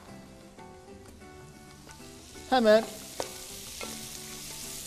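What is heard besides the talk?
peppers and tomatoes sautéing in a pan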